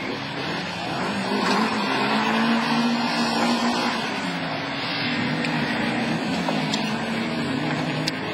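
A Honda Civic rallycross car races in a Division 4 French championship round at Lavaré, its engine a loud, steady high-revving drone throughout, with no talk.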